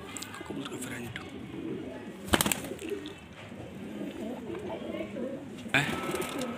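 Pet pigeons at a breeder's loft give soft, low cooing throughout, with a sharp clatter near the middle and another burst of noise toward the end.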